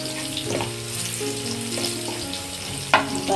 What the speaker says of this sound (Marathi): लसूण मस्त असं परतून घ्यायचं